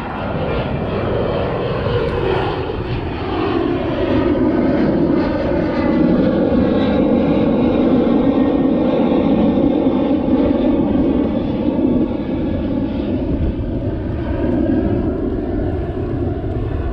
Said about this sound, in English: Another plane taking off.